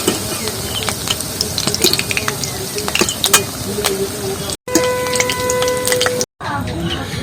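Banana pakoras coated in large potato pieces frying in oil, a dense crackling sizzle with busy metallic clinks and scrapes of a utensil, interrupted by two brief cuts.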